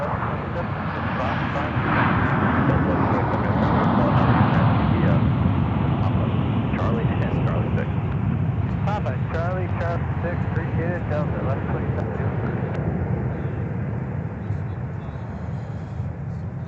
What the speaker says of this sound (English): We've got Delta 2212 arriving from Fort Lauderdale.